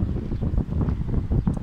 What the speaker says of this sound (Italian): Sentirete del vento in sottofondo, ma è un vento caldo, un vento anche piacevole dopo l'afa di questi giorni.